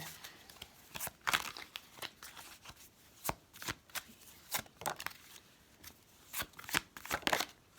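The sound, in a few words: shuffling fairy oracle cards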